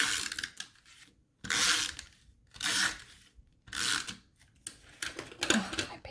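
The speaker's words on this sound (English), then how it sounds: "Oh, my paper keeps tearing." Paper being torn by hand while making a folded face-mask greeting card, several separate ripping bursts with short pauses between them, close up and fairly quiet.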